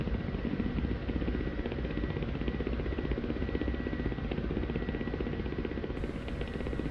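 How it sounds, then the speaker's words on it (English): A Ka-50 attack helicopter flies hands-free in a flight simulator game, its steady rotor and turbine drone loud and continuous throughout, with no talk over it. "The helicopter is doing it all on her own."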